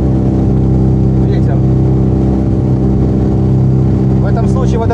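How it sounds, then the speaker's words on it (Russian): A small aircraft engine drones loudly and continuously in flight, a dense low buzzing hum with steady harmonics, and faint voices come through underneath. "Ну как жужжит противно мотор."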